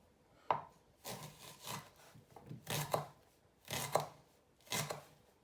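A knife slicing through homemade fishcakes on a board, about five separate crunchy cuts, each a short rasping stroke, close and clear with quiet pauses between them.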